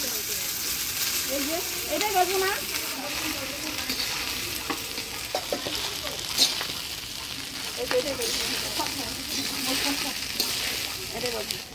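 Rice being fried in ghee with cashews, raisins and garam masala in a pan, a steady sizzle with scraping stir strokes throughout while someone talks over it.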